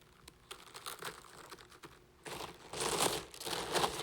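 Cellophane crinkled and tape pulled and pressed while wrapping a Thanksgiving floral arrangement, close crackling rustles in bursts that grow louder and busier toward the end.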